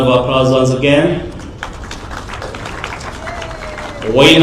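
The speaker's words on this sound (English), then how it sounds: "A round of applause once again." Crowd applause at a World AIDS Day event in Nyayo Stadium, a broad steady patter in the middle, with an announcer's amplified voice speaking over the start and end.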